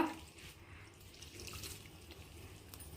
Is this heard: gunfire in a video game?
no